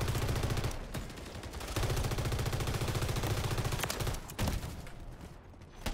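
Sustained automatic gunfire from a weapon hip-fired in a first-person shooter, loud and rapid with steady rhythmic shots, broken by a short pause near one second and another just after four seconds.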